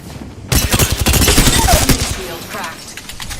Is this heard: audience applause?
no